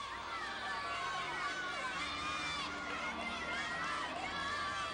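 A packed arena of over 12,000 fans cheers a gymnast during a college meet, Auburn at Alabama, the roar steady and dense throughout with whistles and high shouts rising over it.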